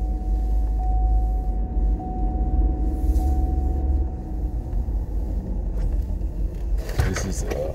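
A Hummer H3 drives along a street, carrying a steady low engine and road rumble. Muffled voices sit in the background, and a sharper clatter breaks in near the end.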